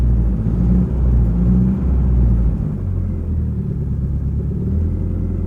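A 1989 Ford Mustang engine idles steadily after sitting unused for years, a close, loud, continuous low rumble with slight unevenness in the first few seconds before settling into an even idle.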